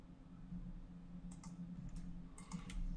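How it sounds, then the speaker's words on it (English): Light keystrokes on a computer keyboard, a handful of quick taps in two small clusters, faint above a steady low electrical hum. "I'll type announce and hit enter."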